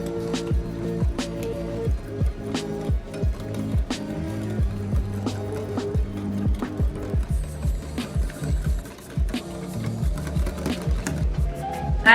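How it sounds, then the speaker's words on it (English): A hand-cranked salt grinder turned repeatedly over a pulled pork coleslaw dressing, giving a rapid run of dry ratcheting clicks and grinding crunches in an uneven rhythm, close to the microphone, with no talk. "put a couple cranks of salt in"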